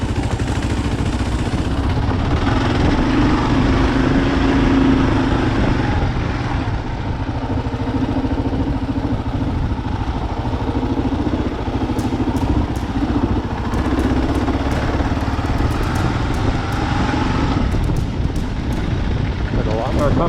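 A Kawasaki KLR650 motorcycle on a rocky trail: a steady, loud engine drone that rises and falls with throttle, with faint clicks and rattles over it, running continuously the whole time.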